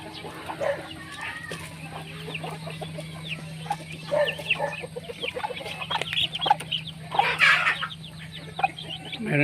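Native free-range chickens cluck and murmur close by in a farmyard, giving scattered short calls over a low steady hum, with one louder squawk partway through.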